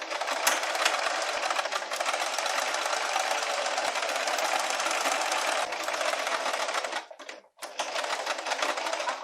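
Sewing machine runs in a fast, continuous rattling stitch while attaching bias tape to fabric for a cowl caftan, pausing briefly near the end before resuming, with no talking.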